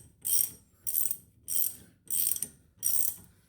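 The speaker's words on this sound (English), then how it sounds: "Then switch over to your ratchet and finish taking it off." A hand ratchet loosening a ball joint nut on a 2000 Dodge Ram clicks in five even bursts, close and crisp, with brief pauses between strokes.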